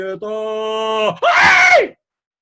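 A woman lets out a loud, sustained scream, first a steady harmonic cry, then a brief break and a higher, strained shriek that falls away, heard alone in a Catalan comic folk tale.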